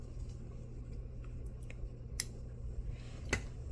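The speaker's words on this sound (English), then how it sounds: "make sure you get really close to that yarn, to the washcloth, and just cut it off" Scissors snipping the yarn of a crochet washcloth, two crisp close cuts heard alone over a steady low hum.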